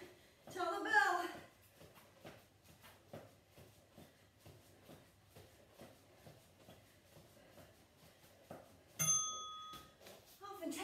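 A bell rings out clearly near the end of a fast workout class, after steady rhythmic thumping of music and movement, with an instructor's voice talking in the background.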